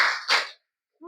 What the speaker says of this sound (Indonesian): baik semuanya tepuk tangan sekali, 2 kali, 3 kali,